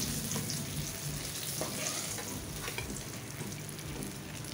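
Fish heads deep frying in hot oil in a kadai, a dense, continuous loud sizzle with bubbling crackle throughout, no voices.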